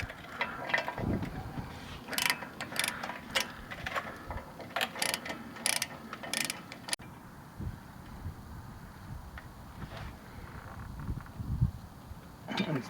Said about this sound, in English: so it's time to tighten them up